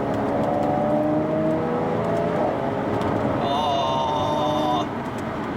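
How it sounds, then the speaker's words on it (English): Standard exhaust of a Jaguar F-Type S V6 revving and rumbling continuously from inside the car, with a brief higher whine near the end. "Oh, that noise from the V6 there. It's just such a good sounding exhaust on this as well from standard"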